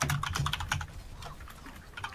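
Rapid typing on a computer keyboard during a competitive Overwatch match, a dense run of close, crisp key clicks in uneven bursts, heard alone without talk.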